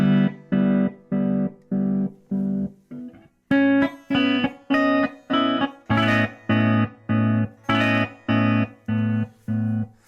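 An electric guitar runs through a Zvex Sonar tremolo pedal on its stock square-wave setting, chopping sustained chords into evenly spaced, hard on-off pulses, about two per second, loud and without talk.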